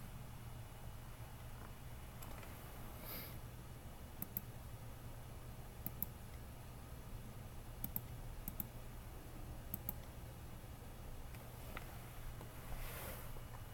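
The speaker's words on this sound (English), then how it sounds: "so let's type those in" Light, sparse keyboard clicks come in small clusters, entered during a statistics test, set alone against a steady low hum and faint background hiss.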